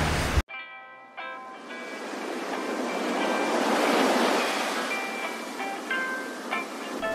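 Ocean waves break and wash ashore at Surf City beach in California, a steady rolling roar that swells and fades for several seconds, with faint tonal hum in the background.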